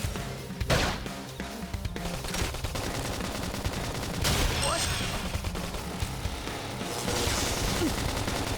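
Combat in Xenoblade Chronicles X with sustained gunfire, sharp blasts and a grenade explosion, loud and continuous with heavy thuds standing out, and brief shouted voices mixed into the fight.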